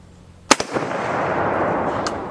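An M1 Garand fires a .30-06 round at a steel target, one sharp, loud crack with a quick second impact, then a rolling echo. A fainter report follows near the end.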